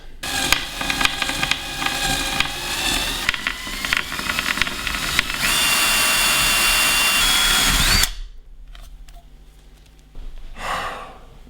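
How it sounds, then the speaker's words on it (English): Power drill with a larger bit drilling into flat pack furniture, a loud close whine with grinding, hissy texture running steadily for about eight seconds, then cutting off, followed by a quieter brief burst near the end. "Hopefully the larger drill will follow the path."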